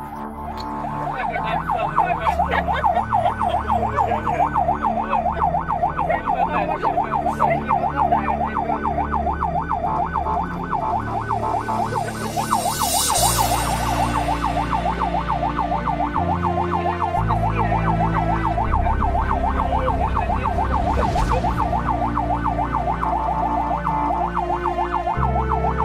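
A loud wailing ambulance siren cycles steadily and continuously, close by, with traffic engine rumble underneath and no talking.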